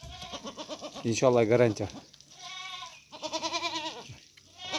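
Dairy goats bleat repeatedly at close range, loud wavering calls in two main bursts with a softer one at the end, while someone speaks briefly among them.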